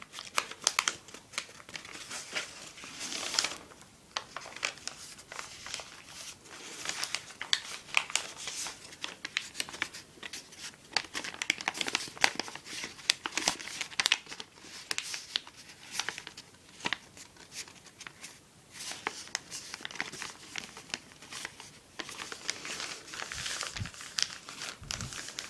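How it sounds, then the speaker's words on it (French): Paper is folded and creased into an origami ancient dragon, with continuous crinkling, rustling and sharp crackles of handled sheets, close and irregular, with no voices. "on a fait un pli similaire au début pour faire ensuite toutes les lignes parallèles"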